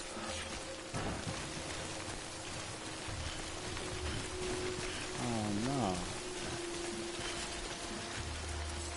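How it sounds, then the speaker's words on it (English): Timefall rain in the video game Death Stranding, a steady hiss of rainfall pattering throughout, with a voice speaking over it and a brief low tonal swoop partway through. "Don't stay out in the rain any longer than you have to."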